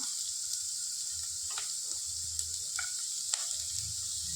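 Chopped onions frying in a pan, a steady faint hiss of sizzling with a few soft stirring scrapes and clicks, no talking.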